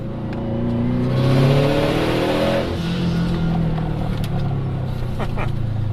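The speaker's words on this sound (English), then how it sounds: "I'm risking death to show people wastegate noises" A Subaru fitted with an external wastegate drops a gear and accelerates on a road, the engine note rising and surging loudly before easing back to a steadier drone.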